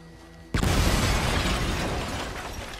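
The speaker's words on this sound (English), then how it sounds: "Place the dynamite right there. Ignite." A dynamite charge goes off during a train heist in the Red Dead Redemption 2 video game, a sudden loud blast after a faint lead-in, followed by a long roaring, rumbling tail that slowly fades.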